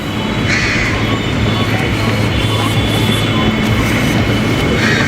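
A Mumbai metro train pulls into a crowded station, a loud, continuous rumbling roar with faint rail clatter filling the whole stretch.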